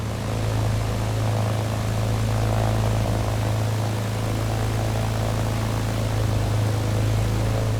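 Propeller aircraft engine droning steadily while taxiing toward the runway at Clearwater Air Park in Microsoft Flight Simulator, a constant loud low hum with broadband airflow noise and no talking.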